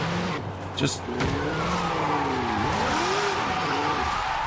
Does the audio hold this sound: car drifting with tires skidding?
yes